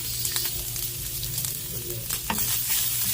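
Garlic and spices sizzle steadily in a little cooking oil in a pan, a close, continuous frying hiss with occasional stirring scrapes and no voices.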